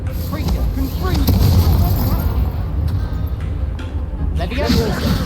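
Confringo spell blasts in Hogwarts Legacy, fiery booming bursts in a duel, repeated a few times and heavy in the low end, with a voice speaking through them.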